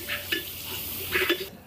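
Ginger garlic paste sizzles in hot oil with bay leaf and cardamom for a tadka, with a few soft scrapes of stirring close by.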